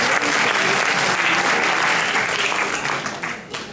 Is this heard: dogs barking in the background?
no